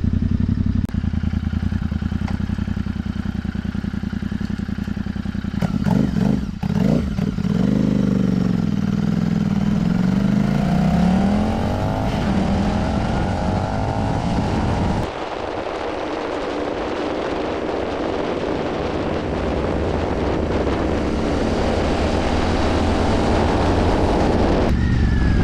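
A Royal Enfield Interceptor 650 motorcycle runs loud and steady while riding, its engine rising and falling through revs. The crackle from the exhaust on throttle release is not clearly separable from the continuous engine roar.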